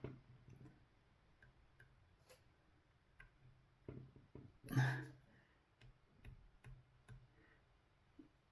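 A rifle scope turret is being adjusted while mounting optics on a new carbine, giving a quiet series of small, crisp clicks at irregular intervals, with one louder handling noise in the middle.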